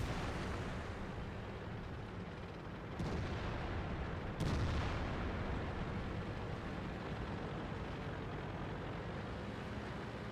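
Tank cannon shots from a Tier 10 German tank destroyer and an Object 430 in World of Tanks: two sharp, booming blasts land about a second and a half apart over a dense, constant roar of engine and battle noise.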